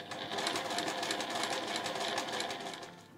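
A domestic sewing machine runs a short burst of backstitching beside the drawstring channel of a small fabric pouch, a fast even whirring rattle that starts abruptly and slows to a stop, close and alone.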